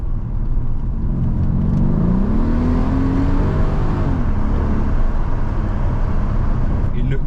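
A Mercedes CLS 500 V8 biturbo engine roars loudly and continuously, its pitch climbing as it revs up, then settling into a steady, throaty drone.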